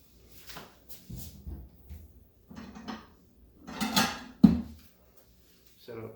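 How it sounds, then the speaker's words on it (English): Ceramic plate set down on a kitchen counter during wonton preparation, a few separate clinks and knocks with brief pauses between them, close and fairly quiet. "Set up a plate."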